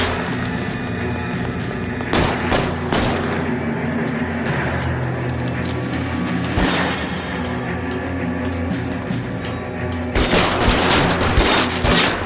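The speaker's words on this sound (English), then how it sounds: "Shots fired at Valencia." Gunfire in the L.A. Noire video game: dense, loud volleys of overlapping shots. Heavy bursts come around the second, seventh and final few seconds, over a constant rumbling background.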